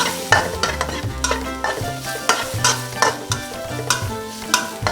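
Ginger and soaked shiitake mushrooms stir-fried in a wok, with repeated spatula scrapes and clanks against the pan over a steady close sizzle, no talking.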